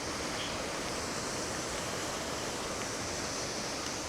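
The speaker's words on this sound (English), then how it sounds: "That's a nice big waterfall" Heavy, steady rush of a big waterfall at Talla Falls on a rainy day, a dense full-spectrum roar that stays constant and loud throughout with no voices.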